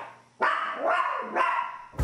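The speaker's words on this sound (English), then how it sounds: "Barking at no one at the door" A dog barks at the door, two or three sharp, loud, close barks in quick succession with brief gaps, the last cut off at the end, and no voices.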